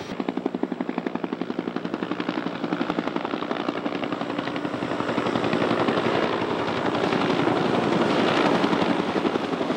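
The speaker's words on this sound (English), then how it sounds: "You see the helicopters over here." Firefighting helicopter rotor blades thump in a fast, steady rhythm, loud and continuous, as the aircraft stays close overhead during the 2008 Big Sur wildfire.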